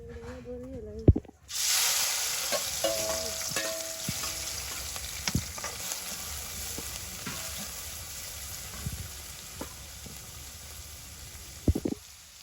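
Small isha river fish hit hot oil with a sudden loud sizzle that settles into a steady frying hiss, broken by occasional utensil clicks and scrapes.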